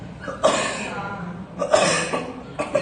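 Two short, sharp coughs about a second apart, close by in a dog cafe, with a softer breathy sound after each.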